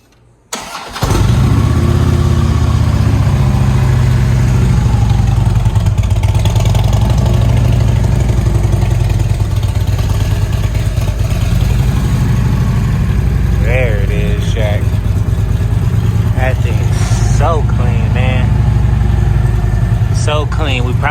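A 2018 Harley motorcycle engine starts cold with a brief crank, then settles into a loud, steady, rumbling idle close by, with a voice briefly heard over it.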